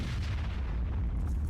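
Heavy cannon fire from a vehicle in the Roblox Military Tycoon video game, a dense, loud booming blast with a deep low-end rumble that fills the whole short stretch.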